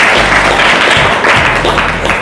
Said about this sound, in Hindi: ताली बजाकर महिमा करें प्रभु की